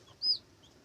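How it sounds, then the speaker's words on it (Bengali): A farm chick gives a single short, high chirp close by, with faint background noise from the farm around it. "তো আপনারা যে বাচ্চাগুলো দেখতে পারতেছেন এগুলো হচ্ছে আমাদের ফার্মি মুরগির বাচ্চা"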